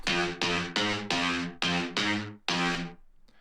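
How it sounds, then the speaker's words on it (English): A fake guitar patch from the Vital synth, run through a guitar amp, plays seven short plucked, distorted notes in a choppy rhythm, each decaying quickly, ending with a faint tail. "That's the one that's going through the guitar amp"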